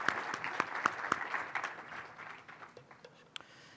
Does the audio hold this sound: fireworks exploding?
no